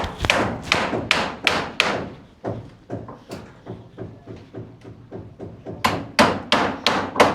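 Nails are driven with a hammer in a steady run of sharp, loud blows, a quick series at first, then a slower stretch of lighter taps, then another fast run of strong strikes.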